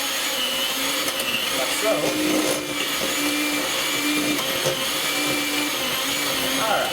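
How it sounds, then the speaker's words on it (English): An electric hand mixer whirs loudly and steadily while creaming butter and sugar for Christmas cookies, its motor pitch wavering slightly as the beaters move through the bowl, with someone speaking briefly over it. "I'm going to use my mixer here. We're just going to go ahead and lightly cream this together here."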